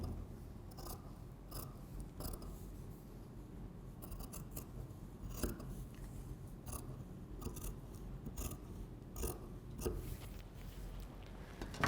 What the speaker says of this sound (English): Trim off the excess fabric.